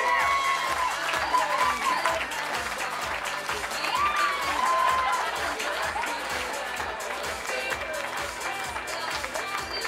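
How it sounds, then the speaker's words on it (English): Sustained applause from a wedding reception crowd greeting the bridesmaid and a cousin, steady clapping with occasional cheers and murmuring voices mixed in, filling the room throughout. "Nice round of applause for Janelle and Stephen"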